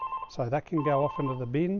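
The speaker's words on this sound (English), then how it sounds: "Sorry about the phone ringing." A telephone rings steadily under a man's continuous speech while an electric tricycle is being assembled indoors.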